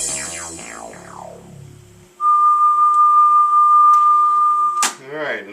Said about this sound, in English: some test tones from the other day